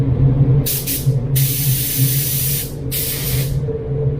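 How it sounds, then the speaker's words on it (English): A spray gun lays a solvent base coat onto a panel in bursts: three close trigger pulls of bright hissing spray, each about a second long, over a constant low booth hum, with no voices. "We'll go a little bit slower, a little bit more trigger, and we'll do a full wet pass on the next coat."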